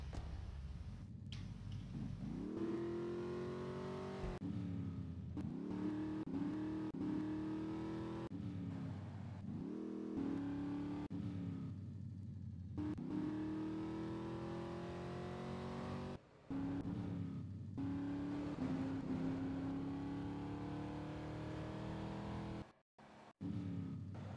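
A car in GTA 3 drives and revs through repeated gear-like climbs in engine pitch, steady and fairly close, with brief drops between accelerations and no talking.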